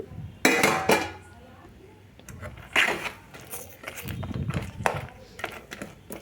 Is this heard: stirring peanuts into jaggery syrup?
yes